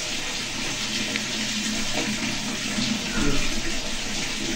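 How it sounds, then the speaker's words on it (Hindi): Tap water running steadily into a vessel as rice is washed in a home kitchen, a constant close splashing hiss with a slight surge near the end. "हमारे चावल जो है इस वक्त वो हो रहे हैं वॉश जी"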